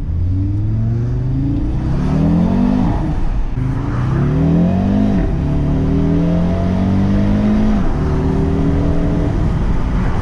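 A 2020 Audi RS Q3's 400-horsepower five-cylinder engine revs up repeatedly, rising in pitch through the gears, loud and close with a steady rhythm of climbs and drops.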